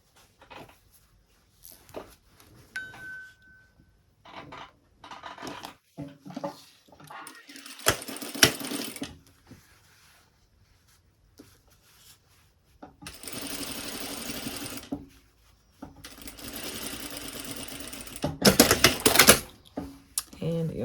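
A sewing machine stitches fabric for a hat in short, loud mechanical runs separated by pauses, with a voice speaking between the bursts.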